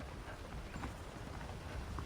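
Horse hooves clip-clopping in the Red Dead Redemption video game, a soft, fairly faint irregular patter of hoof steps over a low background hum.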